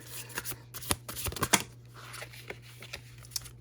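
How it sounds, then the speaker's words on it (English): Tarot cards are shuffled and pulled close by, a run of soft riffling flicks and papery slaps with a few sharper snaps, quiet and free of talk. "Let's go ahead and pull 4 cards for you."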